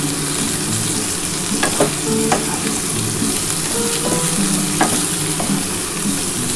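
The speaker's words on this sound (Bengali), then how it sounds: "এবার এটা দিয়ে একটুখানি ভাজা ভাজা করে তারপর আমি পোস্তটা দিয়ে দেবো।" Green beans and potatoes frying in a pan with sugar, a steady close sizzle with occasional stirring scrapes and clicks of a utensil, no voices.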